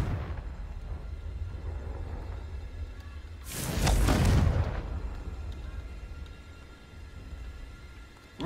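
A Confringo blasting spell explodes in the game Hogwarts Legacy, a sudden loud whooshing boom with a deep rumble that swells for about a second and then fades into the steady ambient game background.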